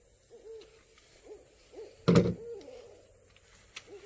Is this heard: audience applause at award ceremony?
no